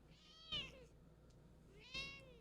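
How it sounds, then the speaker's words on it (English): A house cat meows twice, about a second and a half apart, each a short, faint, bleating cry against a quiet indoor background. "Are you guys noticing how when she meows, she's like a goat?"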